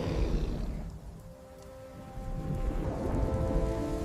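Steady rain falls in a thunderstorm with low rumbling thunder rolling underneath, the downpour swelling louder toward the end, with no voices.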